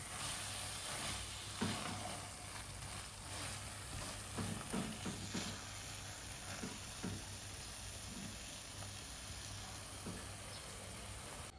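Pineapple jam for nastar cookies cooking down in a pan to drive off its last moisture: a steady, soft sizzling hiss with occasional stirring scrapes and no talk.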